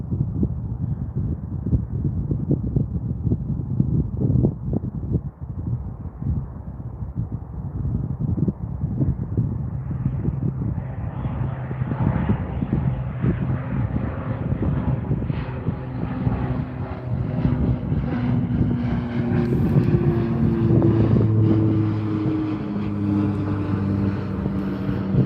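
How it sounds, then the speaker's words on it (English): A Swearingen Metroliner turboprop departing Calgary Airport runway 35R: a rough, pulsing propeller thrum that builds and rises in pitch as the engines spool up, ending in a strong, steady drone. "Right, Swearingen Metroliner should be departing."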